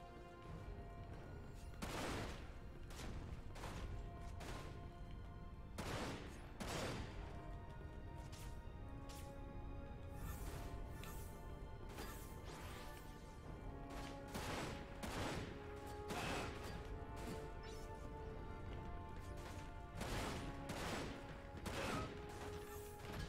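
Video game gunfire in Dirge of Cerberus during a hundred-man fight, a long run of separate shots and bursts at steady intervals. The shots are faint and distant under a constant game background, with no talking.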